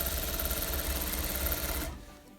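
A sewing machine runs a final top stitch across a fabric face mask, a steady fast mechanical whir close by that stops abruptly near the end.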